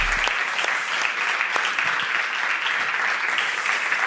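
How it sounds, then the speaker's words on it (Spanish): Steady, dense applause from a crowd, loud and continuous throughout, with a few faint voices mixed in. "un aplaudiment per de Guacassos"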